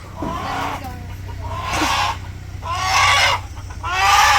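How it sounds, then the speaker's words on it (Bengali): Chickens and a rooster being caught in a household yard for a birthday chicken curry squawk and cluck in four loud, harsh bursts close by, with short pauses between calls. "এই যে মোরগ।"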